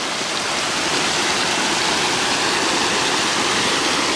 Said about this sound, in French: Me voilà de retour vers ce merveilleux petit ruisseau là.